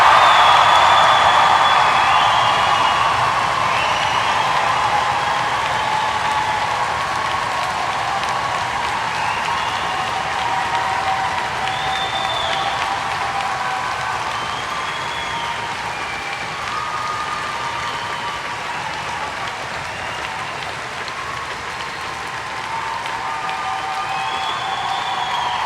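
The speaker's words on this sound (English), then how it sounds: "let's close the ceremony with a really, really, really big Dundee cheer" A large audience at a University of Dundee summer graduation ceremony cheers and applauds loudly and continuously, a dense roar of clapping and shouting that eases only slightly over time.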